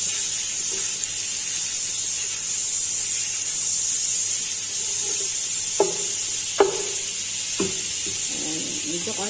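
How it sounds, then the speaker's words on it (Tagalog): Garlic sizzling in melted butter in a pan gives a steady bright hiss throughout, broken by a few soft clinks of stirring near the end; no one speaks. "Kailangan siyang medyo tunaw yung butter kasama na siyang bawang."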